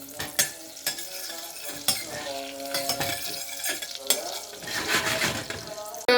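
Butter and dry mint being stirred together in a pan for Turkish yogurt soup, with scraping utensil strokes and clinks over a soft sizzle, irregular and close.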